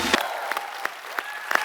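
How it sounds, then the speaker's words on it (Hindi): A studio audience on a TV comedy show applauds in a brief burst, with a few distinct, spaced claps standing out over a soft background hum. "गीता, बबीता, महावीर जी और पूरी फोगाट फैमिली के लिए जोरदार तालियां।"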